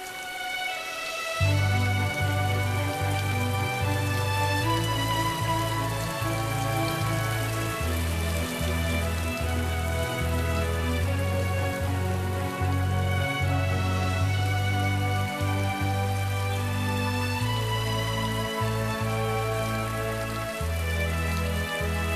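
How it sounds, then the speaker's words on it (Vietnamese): Steady rain falls in a continuous hiss of drops on surfaces, sitting beneath a sustained, melodic musical score that enters early and carries through. "Trời đã mưa, trận mưa này mọi người chờ lâu lắm rồi"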